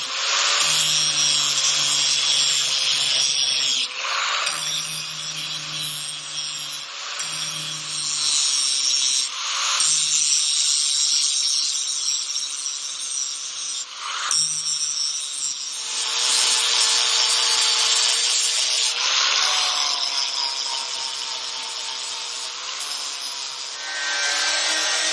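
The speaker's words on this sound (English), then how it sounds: "we got the shock mounts cut off of the swing arm" Metal cutting on a 1974 Harley-Davidson XLCH motorcycle swing arm, removing the old shock mounts: a loud, continuous rasping saw noise with several brief pauses and restarts, steady and close, with no talking.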